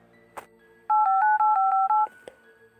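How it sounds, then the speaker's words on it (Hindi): A phone number is keyed in on a telephone: a quick run of about seven clear DTMF beeps in steady rhythm, loud and close, with a soft click before and after and a faint tone underneath. "मैंने फ़ोन लगाना चालू करा।"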